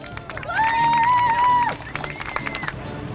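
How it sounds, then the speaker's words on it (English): Parade spectators along a Veterans Day parade route in Universal City, Texas, clapping and cheering, with a loud sustained whistle or horn-like tone rising over the crowd noise midway before the clapping thins out. "round of applause."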